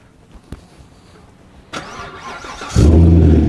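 A car engine cranks and catches, roaring loudly to life and settling into a steady idle after a few quiet clicks and a door sound, with no talk.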